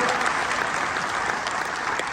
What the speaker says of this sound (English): Let's give a round of applause to my dear friend, our religious leader